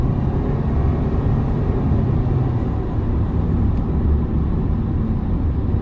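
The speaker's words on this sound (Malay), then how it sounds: "Itu bunyi CVT dia, ngauman CVT." A steady, loud drone of cabin road noise from a Toyota Veloz on the move, its CVT whine sitting within a constant hum that barely varies, with no talking.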